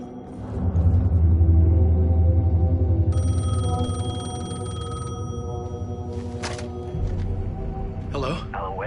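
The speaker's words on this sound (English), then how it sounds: "The payphone was ringing." A payphone rings in Alan Wake II, a sustained electronic tone running for a couple of seconds over a loud, low ambient drone and rumbling game background, with a brief sharp click near the end.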